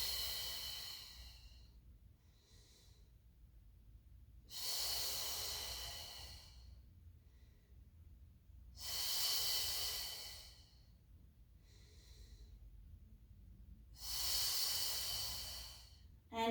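Slow, deep breathing during a Pilates mat exercise, with long drawn-out inhales and exhales recurring roughly every five seconds, close and breathy, with quiet gaps between and no talking.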